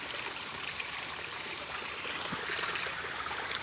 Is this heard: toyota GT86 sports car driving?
no